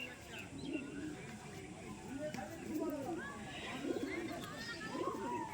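Giribaz pigeons coo in soft, rolling, repeated calls at close range while someone talks steadily over them.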